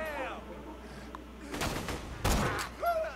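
Gunfire in the shooter game Borderlands 2 comes as two short, loud bursts of shots, with brief electronic tones before and after them.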